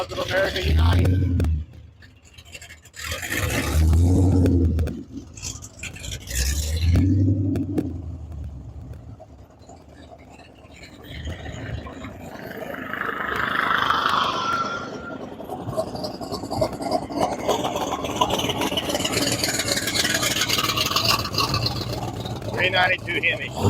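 A hot rod with a 392 Hemi engine roars in three short, rough revs close by, then settles into a continuous rumbling drive with a passing whoosh, under faint crowd noise.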